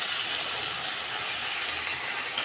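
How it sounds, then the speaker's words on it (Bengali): Drained Gobindobhog rice hits hot spices in a pan, giving a steady, loud sizzling hiss that holds evenly throughout with no pauses. "জল ঝরিয়ে রাখা গোবিন্দভোগ চালটা দিয়ে দিলাম"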